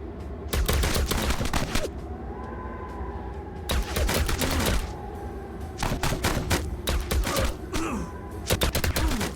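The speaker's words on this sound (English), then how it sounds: "Why are you guys shooting him in the kneecaps and the dick?" Rapid bursts of gunfire from the Home Behind 2 video game, a pistol-armed bandit under fire, come in three dense volleys of loud cracking shots separated by short pauses.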